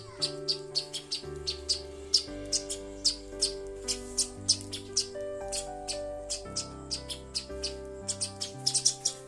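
Rapid bursts of sparrow chirps repeat throughout as the birds come to feed, bright and close, over a steady background of sustained tones.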